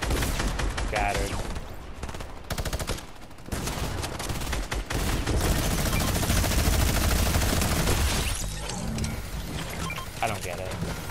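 Rapid gunfire in a video game, dense bursts of loud shots that break off in short pauses, with a voice talking over parts of the firing.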